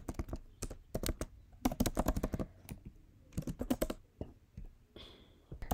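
Rapid keyboard typing while JavaScript code is written, a close stream of crisp key clicks in uneven bursts, with short pauses in between.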